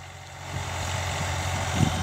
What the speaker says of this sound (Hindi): ये देखो एयर कूल्ड इंजन है इसमें, और आइसर का ही रिकॉर्ड इंजन है